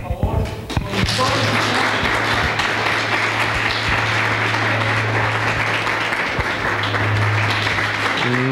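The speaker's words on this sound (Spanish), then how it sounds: "Quiero pedirles de nuevo un gran aplauso para el doctor Boris Herbas" An audience at a book presentation gives Doctor Boris Herbas a loud, sustained round of applause that fills the room after a few brief claps and bits of talk at the start.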